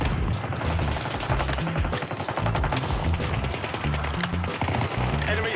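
Rapid, dense gunfire in the shooter game Warzone, steady bursts of automatic shots and thumps running loud and close throughout with barely a pause.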